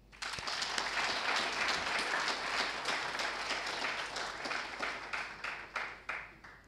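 Audience applause at the Prix Galien Africa award ceremony, a dense burst of many hands clapping that thins into scattered claps toward the end.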